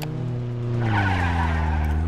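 Close, loud tire squeal as a car drifts, a sustained skidding screech over a steady engine drone for a couple of seconds.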